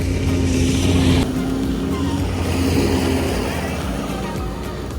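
Droning snowmobile engine on Svalbard, a loud steady motor hum with a shift in pitch partway through, running continuously up close.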